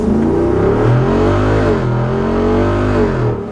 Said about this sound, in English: I just love the sound, the V8 engine, the power delivery.